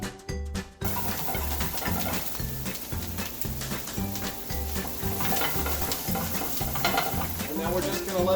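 Brussels sprouts and onions stirred and coated in a pan, a continuous close sizzle with scraping and rattling under a loud rhythmic music backing track.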